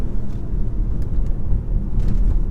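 A 2018 Porsche Macan S accelerating from inside the cabin, its engine a loud, steady low rumble with slight surges as the gearbox shifts quickly.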